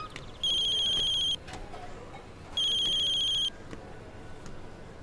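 A phone ringtone sounds twice, each burst a bright, steady electronic tone lasting about a second, over a low hiss of background noise.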